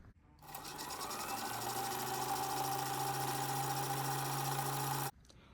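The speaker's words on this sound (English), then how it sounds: "hang on to the thread while you wind until the thread wraps around the core of the bobbin 1 or 2 times" A Kenmore 15810401 sewing machine winds a bobbin with a steady, close motor whir that starts, holds evenly for about four and a half seconds, then cuts off abruptly.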